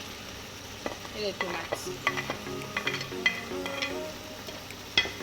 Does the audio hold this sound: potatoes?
yes